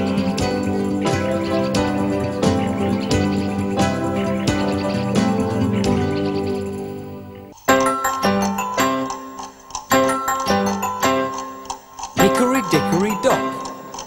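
A clock ticks steadily and evenly under a children's nursery rhyme song with music and singing, the ticking running throughout.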